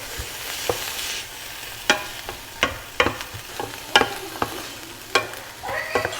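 Bacon frying in a pan with garlic, onion and peppers, with a steady sizzle under repeated sharp scrapes and clacks of a utensil stirring at an irregular rhythm, close and moderately loud.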